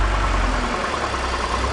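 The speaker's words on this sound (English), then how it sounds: "The engine stumbled a little bit and then it recovered." A BMW 330i E46 engine idles with a steady low rumble after a stumble caused by an unplugged mass airflow sensor, sounding close and continuous with no talk.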